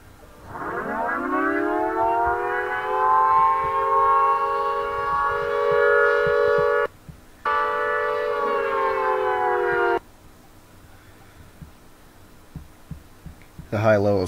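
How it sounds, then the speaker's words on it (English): A new custom Triblaster civil defense siren winds up from low to a loud sustained multi-tone wail, briefly drops out and resumes, then cuts off abruptly, leaving faint background hum. "And here's what the new Triblaster sounds like."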